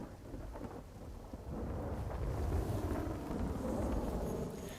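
Heavy monsoon rain pours steadily in Khambha town in Amreli, Gujarat, with thunder rumbling low beneath it and a dense, continuous roar that swells louder partway through, with no voices present.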